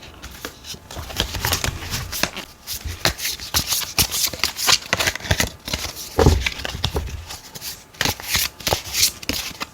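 Tarot cards being shuffled by hand, a close series of rapid riffling and flicking bursts with brief pauses between, no talk heard.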